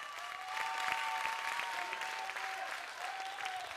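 A festival crowd at a comedy show applauds in response to a question about loving their mothers, a dense burst of clapping that swells quickly and stays steady, with a few voices and cheers mixed in.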